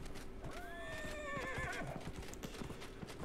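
A horse in the video game Dragon Age Inquisition lets out a clear, wavering neigh while hooves clop rhythmically beneath it, moderately loud against a steady background.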